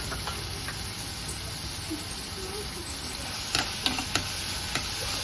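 Chickpeas, a couple inches of cinnamon and four cloves frying in hot oil, a steady faint hiss with a few sharp crackles and ticks late on, close by.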